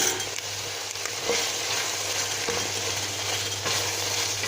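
A spoonful of tomato paste frying with onion, pepper and meat for a Turkish dried bean stew, a close, continuous sizzle broken by a few soft stirring scrapes and knocks.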